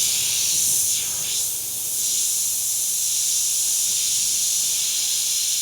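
A steady, bright hiss from an airbrush spraying thinned acrylic art paint, continuous and close, with brief changes in tone near the start.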